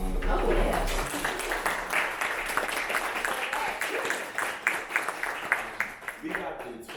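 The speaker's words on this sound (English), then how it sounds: "can we give our panelists a round of applause?" An audience applauds panelists at a talk on art and technology, a crowd of hands clapping fairly close that thins out toward the end, with voices over it.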